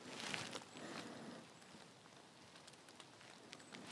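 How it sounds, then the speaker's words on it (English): Light rain falls outdoors during bushcraft fire starting, a faint, soft steady patter with scattered tiny ticks, slightly louder at the start. "And it is still raining slightly."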